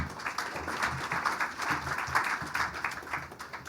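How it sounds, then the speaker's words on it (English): Audience applause for a presenter at an education technology forum, a steady, moderately loud wash of clapping hands that pulses slightly over a few seconds without voices. "Please give Aditya a big round of applause."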